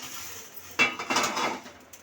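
Metal idli steamer plates clink and rattle as they are lifted out one by one after steaming rava idli, a sharp near clatter followed by a second burst of lighter metallic knocks, with no talking.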